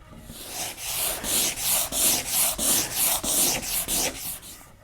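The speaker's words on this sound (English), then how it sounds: "I'm just going to give this a very light scraping with the utility knife to get the worst of it out of the way." A utility knife is drawn lightly across the wooden body of a custom-built Les Paul guitar, producing about a dozen even, rhythmic scraping strokes that are close and fairly loud, with no voices.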